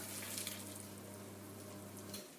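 Hot noodle water pours and drips through a colander filter into a bowl for Chinese noodles, a steady wet hiss over a low hum that cuts off near the end.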